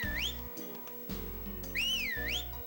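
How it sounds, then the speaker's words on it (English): Whistling notes play in the video game Majora's Mask, a clear pure tone that swoops up and down in two short sliding phrases over a steady game background. "So now I'm just going to do a bit of whistling, because there's a note for whistling"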